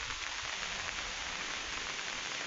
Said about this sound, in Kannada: ಗಾಳಿ ಅಬ್ಬರ ಜೋರಿದೆ, ಮಳೆ ಕೂಡ ಜೋರಾಗಿ ಬರ್ತಾ ಇದೆ